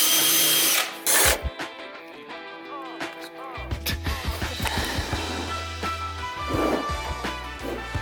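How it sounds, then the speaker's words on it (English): Power drill bores a hole in wood during a school bus tiny house subfloor build, whining steadily at first, then pulsing in short, rough bursts as the bit bites into the timber, close and fairly loud. "I'm good at drilling."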